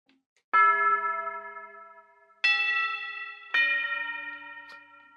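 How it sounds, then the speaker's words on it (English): Tubular bells struck three times in a studio film-scoring session, each a bright, resonant metallic clang that rings out and slowly decays, clean and close with no talking. "Now, a really cool thing that I love about this soundtrack is their use of the bells, or the tubular bells."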